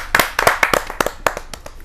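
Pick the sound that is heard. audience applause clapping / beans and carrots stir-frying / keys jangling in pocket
audience applause clapping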